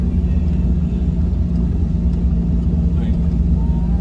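A 50 horsepower multi-cab drives along a road on Biliran Island in the Philippines, giving a steady, heavy low engine rumble with road noise that stays constant throughout.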